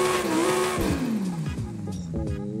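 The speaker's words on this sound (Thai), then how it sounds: "อุ้ยเครื่องยนต์ติดแล้วครับท่านผู้ชม" A Lamborghini Huracán STO fires up in Forza Horizon 5, a loud engine start that rises into revving with pitch sweeping up and down, close and alone.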